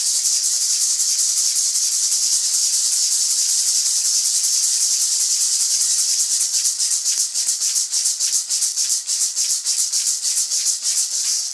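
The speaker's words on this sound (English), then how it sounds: "You shake it back and forth, usually played by the hula dancers" A Hawaiian feathered rattle, the kind played by hula dancers, shaken back and forth in a steady, dense, hissing rustle that pulses more distinctly toward the end, with no talking.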